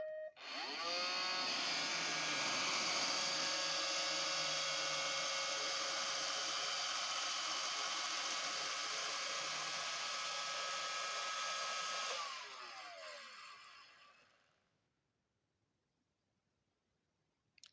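A Roomba robot vacuum runs with a steady, loud broadband whirring drone and a few shifting tones for about twelve seconds as it heads toward one of two docks, then winds down and fades to near silence.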